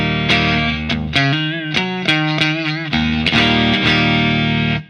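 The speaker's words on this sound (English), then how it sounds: "Let's turn off the pedal now and go on to my neck single coil." Electric guitar through its neck single-coil pickup with the pedal bypassed, a clean played phrase of struck chords and single notes ringing out with sustain, close and loud.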